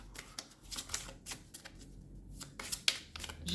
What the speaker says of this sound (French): Ce sera la dernière carte pour ce tirage que je voulais vous offrir